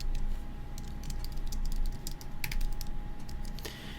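Rapid typing on a computer keyboard, with a quick uneven patter of light clicks and a heavier key strike near the end, close and clear over a low steady hum.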